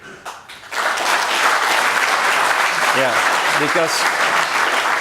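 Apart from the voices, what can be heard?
audience applause welcoming the partners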